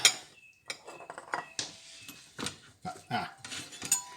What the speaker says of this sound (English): So here we come back with our chopping board.